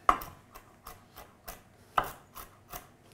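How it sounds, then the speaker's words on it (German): Roasted walnuts being chopped with a knife on a board: a series of soft, evenly spaced blade strokes, about seven quiet knocks with a brief rasp between them, close and alone. "Jetzt einfach noch die Walnüsse runterhacken."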